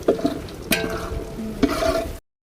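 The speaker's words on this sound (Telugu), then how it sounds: "బిర్యానీ స్పైసెస్ నెయ్యి ఆయిల్ అయితే వేసుకొని బాగా కలుపుకుందాం" Biryani spices are stirred in ghee and oil in a pan: a short burst of sizzling with a few scraping strokes of the spoon, close by and without voices.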